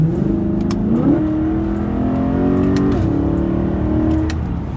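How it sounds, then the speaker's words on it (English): A BMW E92 M3 on its stock exhaust revs up twice, the smooth, fairly deep engine note climbing and holding before settling, loud and close with no talking. "It's definitely quieter and deeper, not as high pitched."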